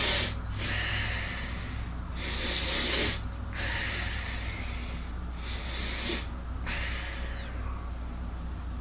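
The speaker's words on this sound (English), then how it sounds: "Close your eyes and breathe deep in and out." Slow, deep breathing in and out with eyes closed, long airy inhales and exhales in a steady rhythm of roughly one breath every two seconds, very close to the microphone and breathy, with no talking.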